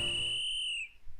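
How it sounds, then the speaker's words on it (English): A sharp, shrill whistle blast in the Koiken Otome visual novel, a single sustained high tone held for almost a second before it cuts off, clear and alone. "our attack is interrupted by the sound of Yuzu's whistle"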